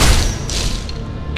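A slash attack in the action role-playing game Torchlight lands with heavy booming thuds, two sharp impact bursts over a dense, continuous rumble of game effects.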